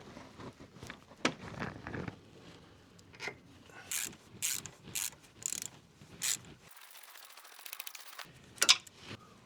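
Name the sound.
ratchet working on Land Rover Discovery 3 suspension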